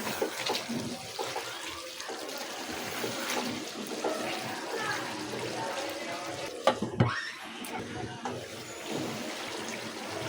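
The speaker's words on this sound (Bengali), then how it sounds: "এখন দিয়ে দিচ্ছি ঝোল" Broth splashes and trickles as it is poured into a simmering beef and jackfruit seed curry, a soft steady watery pour with a brief louder splash partway through and faint background voice.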